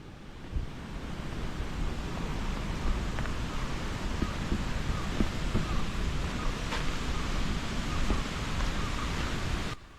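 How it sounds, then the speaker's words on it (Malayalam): Strong wind roars steadily against the microphone, mixed with a broad rushing of a stream flowing below, continuous and fairly loud, at Kattikkayam, Kottayam, Kerala. "ഇവിടെ നിൽക്കുമ്പോൾ ഭയങ്കര കാറ്റാണ് കേട്ടോ അടിയിൽ അരുവിയുടെ ശബ്ദം നല്ല പോലെ നമുക്ക് കേൾക്കാം"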